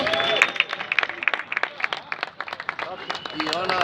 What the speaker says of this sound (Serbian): vas molim za najveći i najjači aplauz